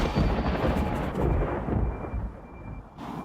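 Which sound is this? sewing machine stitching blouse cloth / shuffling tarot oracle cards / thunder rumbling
thunder rumbling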